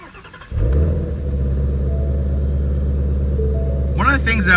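A Shelby GT350 engine cranks and fires up, settling into a loud, steady deep idle rumble; a voice speaks briefly near the end.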